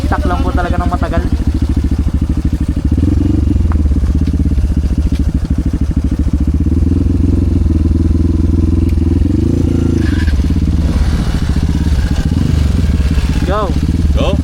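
Several motorcycles running on a trail, engines idling and ticking over steadily up close and loud throughout, with people talking over the engine noise.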